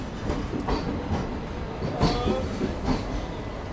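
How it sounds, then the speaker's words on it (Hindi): The crowded Amritsar Mumbai Express, train 11058, runs through Ambala Cantt station with loud continuous rumble and rhythmic clickety-clack of wagons passing close by, no talk. "ये निकली अमृतसर मुंबई एक्सप्रेस अम्बाला कैंट से"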